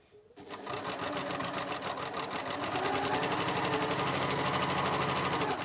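Sewing machine stitching a quilt block, a fast, even mechanical whir with rapid needle clatter that starts abruptly and runs steady and close throughout.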